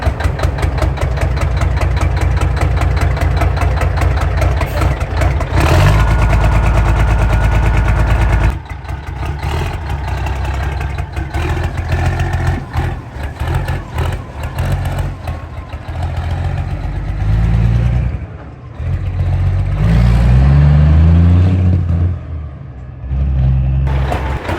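A heavy pull truck's engine runs loud and close as the truck drives off, rumbling steadily with a brief lull before it revs up again and settles back into a throaty drone.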